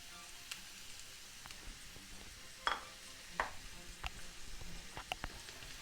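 Carrots and onions stirred in a frying pan for mushroom soup with brisket, soft scrapes and clicks of a utensil over a faint low sizzle, quiet and close.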